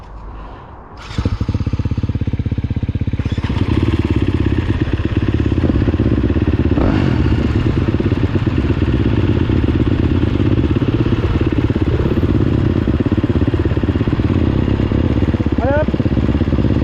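A motorcycle starts up close by, then runs loud and steady with a constant rumbling engine note through the evening ride, without any clear pass-by.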